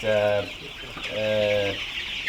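Chickens on a poultry farm give two loud, close, drawn-out clucking calls separated by a short pause, heard alone without talk.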